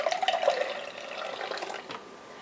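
Milky water is poured from a measuring cup into homemade bread mix, a steady close trickle and splash lasting a couple of seconds, with no talking.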